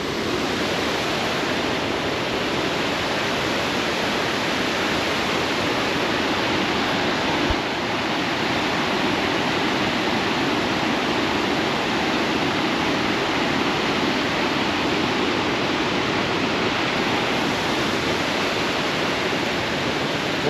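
A waterfall in the middle of a city roars steadily and loudly, a dense, unbroken rush of falling water that fills the whole stretch without pause or voices.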